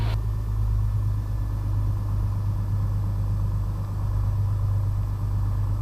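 A Piper Comanche 250 aircraft engine idles on the ground, giving a steady, loud, low drone that pulses slightly throughout with no speech.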